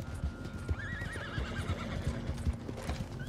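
A horse in the Red Dead Online video game whinnies with a rising, wavering neigh over steady galloping hoofbeats, the clip-clop continuous and fairly close throughout.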